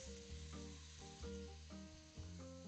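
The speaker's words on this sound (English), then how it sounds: "And now, delicious frying noises." Chicken and bacon sizzle and fry for an Instant Pot chicken bacon ranch rice meal, a steady close crackle with periodic stirring scrapes and clinks as the food is moved around.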